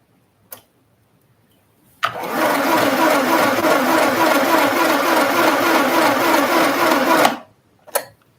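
A sewing machine stitches fabric in one steady run of about five seconds, a loud even mechanical whir, framed by a few isolated clicks before and after.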